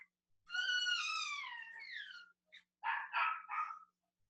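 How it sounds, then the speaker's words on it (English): A dog indoors reacts to someone entering the house with a long, high, whining howl followed by several short, sharp barks. It is close and clear, with no talking. "Someone just came into the house, and so that's why we have Cheeky barking a little bit"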